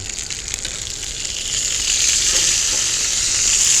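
Hamburger steak and potatoes fry on a cast iron pan over a burner turned up high, giving a steady, close hiss and crackle that swells slightly louder midway and continues without pause.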